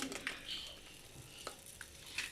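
Bread warming in butter on a flat tawa griddle gives a soft, quiet sizzle, broken by a few light scraping and stirring clicks.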